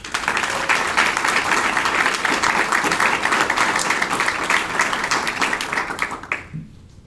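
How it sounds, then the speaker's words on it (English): An audience at a youth entrepreneurship challenge gives the young entrepreneurs a round of applause, sustained dense clapping for about six seconds before it cuts off abruptly. "So round of applause for yourself."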